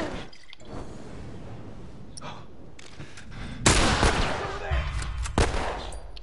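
Game gunfire from The Last of Us, a single-shot rifle, sounds as a few sharp cracks amid background combat noise, the loudest report landing near the end.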